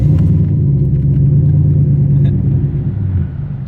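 A big-turbo Ford Mustang engine rumbles loud and close at a steady, deep idle, the level easing slightly toward the end, with no talking.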